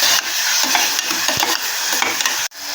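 Tomato and onions for white peas kurma sautéing in a pan, with a steady close sizzle and a spoon scraping and stirring in repeated strokes, ending in a sharp clatter.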